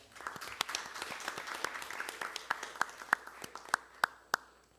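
Audience applause at a political forum on election law reform: a soft, scattered patter of hand claps that builds into sharper, more distinct claps toward the end.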